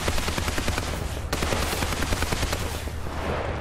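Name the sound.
gunfire from the video game War Thunder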